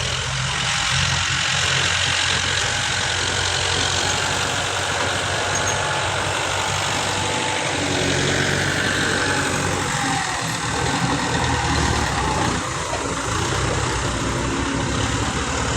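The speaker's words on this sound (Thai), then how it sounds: "ไม่ได้เหยียบคันเร่งเลยครับโอ้แรงนะครับโอ้เอาไปดันดิน" A heavy tractor engine rumbles loudly and steadily close by while pushing dirt, a constant throaty drone with grinding, scraping texture.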